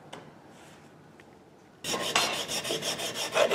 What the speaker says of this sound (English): This is called draw filing